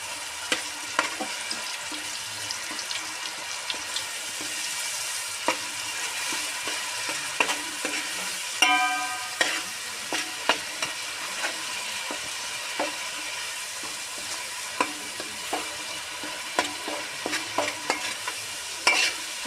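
Ingredients sizzle in well-heated oil for a fish curry, a continuous crackling hiss dotted with frequent sharp spits and pops throughout, no talking.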